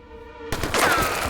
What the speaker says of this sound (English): Saved by the gunfire!